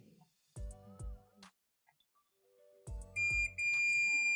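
A few sharp electronic beeps from a multimeter continuity buzzer testing shorted MOSFETs in an active speaker's power amplifier, in two pairs separated by a pause, ending in a longer sustained tone; no talking.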